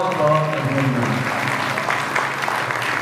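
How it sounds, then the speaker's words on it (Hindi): Devotees at a Bhagwat Katha religious gathering breaking into loud, sustained applause, dense clapping that carries on throughout, with a faint musical tone lingering underneath at the start. "पुनः एक बार जोरदार तालियों से बहुत बहुत अभिनंदन।"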